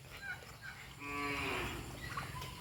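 Cattle on a farm give a single drawn-out moo midway through, over steady rain hiss beside a chicken coop. The call sounds moderately distant.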